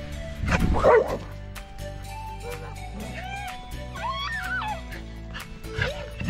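A dog barks and yips excitedly in short bursts close by, then makes whiny, whimpering sounds amid outdoor background noise at Red Rock Park, New Mexico.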